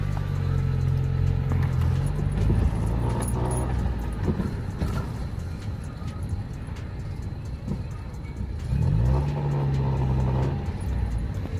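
A small car's engine hums steadily from inside the cabin, its pitch rising and falling as the car speeds up and shifts gears.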